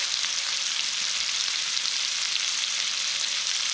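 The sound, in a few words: shrimp with Creole seasoning pan searing in a pan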